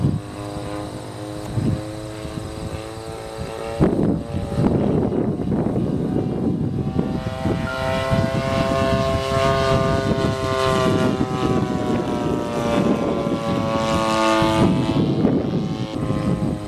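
A radio-controlled Great Planes Avistar 30cc model airplane buzzes continuously overhead, its whining engine pitch rising and falling as it passes, with wind rumble underneath.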